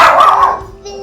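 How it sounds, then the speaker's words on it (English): A single dog bark or yip up close, trailing off into a short whine, with a faint tone lingering afterward. "And my dogs like it too. You can hear them barking."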